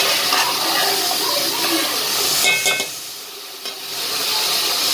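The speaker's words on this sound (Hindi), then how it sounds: "गोश्त को हम तेज आंच पे तकरीबन 5 मिनट के लिए पकाएंगे।" Meat cooks over high heat in a pot for a Pakistani-style pilaf, giving a steady loud sizzle and bubbling hiss that fills the whole moment, with a brief stirring clatter midway and no talking.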